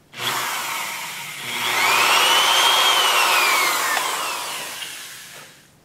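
A power drill whines steadily and close, its pitch rising and then slowly falling as it bores a dimple into an AR-15 gas block held in a BRD Engineering jig, with no talking.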